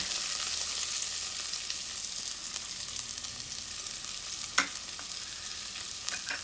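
Chopped onions sizzle and fry steadily in a pan, turning golden for egg dum biryani with turmeric added, a continuous close hiss with occasional small pops and stirring clicks, no talking.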